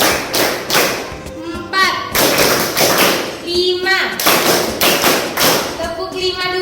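Children clap hands in a classroom counting game, loud rhythmic bursts of claps in short groups, with young voices counting aloud between them.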